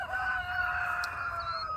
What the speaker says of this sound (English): these roosters are gonna be noisy for us this morning